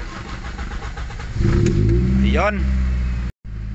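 A Toyota Altis with a 1.6 engine suffering rough idling and high RPM is cranked and fires up, then settles into a loud, steady idle close by. A person speaks briefly over it, and there is a short dropout near the end.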